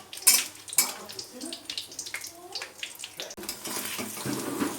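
Whole bay leaf, cardamom and cinnamon sizzle in hot ghee in a pan, with clinks of utensils against metal and soft scraping, close and fairly quiet, no talk.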